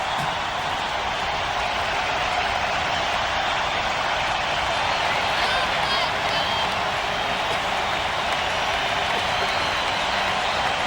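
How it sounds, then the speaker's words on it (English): A Blue Jays crowd at a 1993 playoff baseball game in Toronto roars with a steady, dense wash of cheering and clapping that fills the whole stretch without letting up. "More noise from the Blue Jays crowd"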